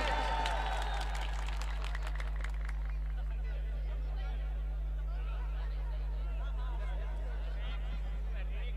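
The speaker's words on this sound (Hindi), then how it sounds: "एक बार अगर गुफरान चुलबुल साहब को सुनना चाहते हैं तो पुरजोर तालियों के साथ इस्तकबाल" Applause at a Hindi-Urdu comedy mushaira welcomes the poet Gufran Chulbul, a burst of clapping that fades after a few seconds into low crowd murmur over a steady hum.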